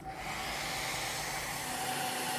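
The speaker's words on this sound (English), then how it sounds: "To make a supercritical fluid, we can heat this with a hairdryer," A hair dryer blows steadily while heating an autoclave holding fluid being brought to a supercritical state: a constant, loud whooshing roar with a faint whine running through it and no voices.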